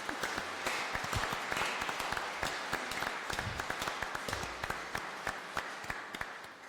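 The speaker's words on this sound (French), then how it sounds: "On peut les applaudir." Congregation applauding at a closing Mass of a Saint Rita novena, a steady round of clapping with distinct individual claps popping through, moderately loud and continuing evenly to the end.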